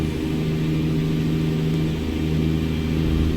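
A Mack R truck hauling a 1950s Fruehauf tanker in American Truck Simulator drives with the pedal floored in tenth gear, its engine a steady, loud, low drone that runs throughout.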